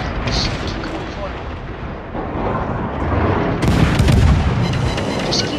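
Ship guns firing in a video game during a naval battle, dense rolling booms and rumbling blasts that swell louder toward the end, with a continuous noisy wash behind them.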